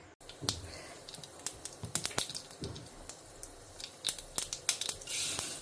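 Mustard and fenugreek seeds spluttering in hot oil in a home kitchen pan, giving a close run of sharp, irregular crackles and pops that grow busier toward the end, with no talking.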